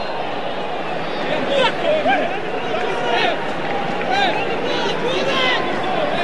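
A large stadium crowd at a Liverpool football match chants and sings together in a loud, continuous swell of many voices, with rising and falling melodic phrases over a steady roar.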